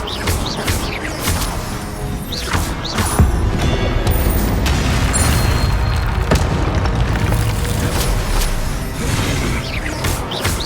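A spell being cast in Hogwarts Legacy during a Ravenclaw trial, a dense magical game soundscape with booming bursts and crackling impacts that repeat over a steady loud mix, with no talk.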